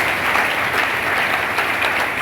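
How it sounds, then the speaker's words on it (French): A church congregation at a youth-themed evangelical sermon bursts into sustained applause and cheering, a dense, even wash of clapping and crowd noise filling the room without pause. "Des acclamations."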